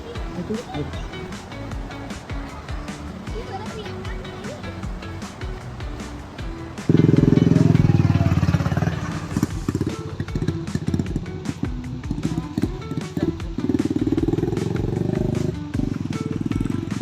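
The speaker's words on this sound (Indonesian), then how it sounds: "Ada motor." A motorcycle rides along a path toward the Pineus Tilu pine-forest camping area. Its engine suddenly roars up close, fades, then returns loud again, while people talk nearby over the outdoor background.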